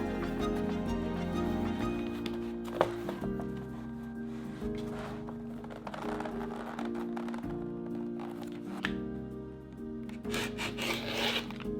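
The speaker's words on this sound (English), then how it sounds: "let's cut some Herman Oak belly scrap and see how much we can go through." A 45mm or 60mm rotary cutter blade rolls through Herman Oak belly leather scrap with close, repeated rasping strokes that grind and scrape in uneven bursts and short pauses.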